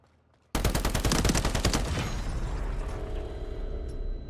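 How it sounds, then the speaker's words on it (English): Rapid bursts of gunfire from an enemy in a shooter video game, where the weapon fires blue goo, erupt suddenly after near silence and run loud and dense for several seconds. "Why is he shooting blue goo?"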